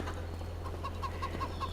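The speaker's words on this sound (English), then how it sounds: "I think the chickens are going to have to move." Chickens cluck softly on a farm in Farming Simulator 25, a series of short, evenly spaced clucks over a steady low hum, faint and with no talk.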